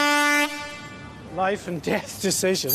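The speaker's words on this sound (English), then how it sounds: "Pranking Sky News reporter with air horn live on TV" A loud, sustained air horn blast for about half a second, set off as a prank during a live Sky News TV report, followed by excited voices talking.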